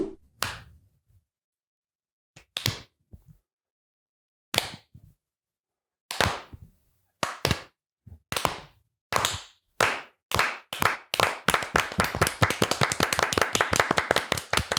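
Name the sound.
slow clap leading into a podcast segment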